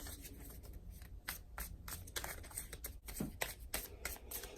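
Tarot cards being shuffled and drawn, with crisp, close riffles and flicks in uneven bursts, quiet and intimate.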